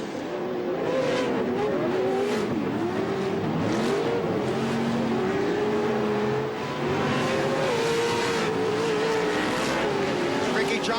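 Off-road race trucks at CORR Las Vegas roar continuously around the dirt track, engines revving and shifting pitch as they accelerate and jump, loud and close, with a commentator talking over the racing.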